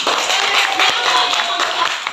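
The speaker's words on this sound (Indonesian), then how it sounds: "Tepuk tangan untuk Adi" Students in an Indonesian classroom clap for a classmate, a brief steady patter of many hands that holds evenly for a couple of seconds.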